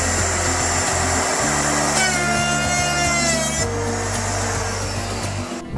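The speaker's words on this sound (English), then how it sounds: "use my router to set the right depth for these lap joints" A power router cuts lap joints into wood for a large heavy Chicago L train sign frame, a loud continuous whine and grinding hum with small shifts in pitch as the bit moves through the timber.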